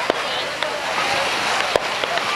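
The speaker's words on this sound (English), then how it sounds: "there are fireworks going off. All down the beach" Fourth of July fireworks go off along a Cape Cod beach, distant pops and bangs scattered over a constant hissing background, a few sharper bursts standing out.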